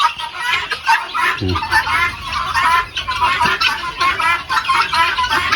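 A dense chorus of harsh, rapid cackling guinea fowl calls in Laos, loud and continuous, with a few birds chattering over one another nearby.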